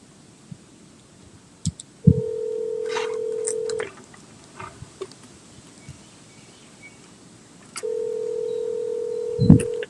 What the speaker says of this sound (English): I am just going to attempt here to call Todd, maybe